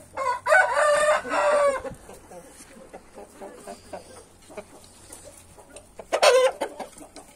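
Backyard hens, one of them molting, cluck loudly near the start, then soft background clucking continues before another loud burst of clucking near the end.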